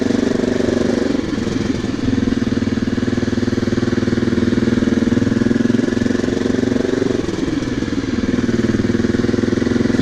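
A 250 cc GSX full-size motorcycle engine runs steadily and loud throughout while being ridden, with a continuous low droning rumble and slight dips in pitch around a couple of points.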